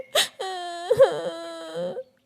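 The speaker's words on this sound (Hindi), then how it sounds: "उसके कानों में बच्चे के रोने की आवाजें आ रही थीं।" A child whimpers and cries in a short, wavering wail with a catch of a sob in the middle, close and fairly quiet.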